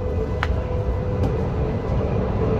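Steady rumble of a crowded passenger train in motion, a continuous low drone with a couple of brief faint high clicks, heard from inside the carriage without talk.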